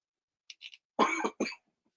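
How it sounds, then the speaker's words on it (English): A person at a live comic book sale coughs a few times: two or three short dry coughs, then a louder harsher cough with a throat-clearing quality, all close and with no talk around them. "I'm so tired of coughing."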